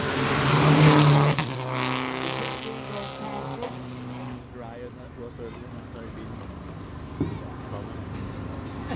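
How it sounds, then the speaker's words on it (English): A Citroen DS3 rally car roars past nearby on a street stage, engine loud at first and then fading into the distance, while someone talks over it. "that's Johnny Greer on his second run going up past this in the Citroen DS3"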